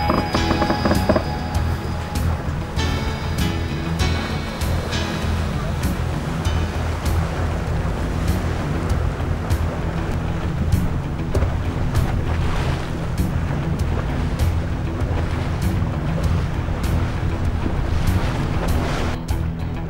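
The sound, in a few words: sea breeze wind and waves off Newport during sailing race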